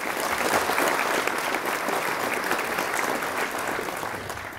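A gymnasium crowd at an evening program gives a steady round of applause, a dense even patter that slowly tapers off.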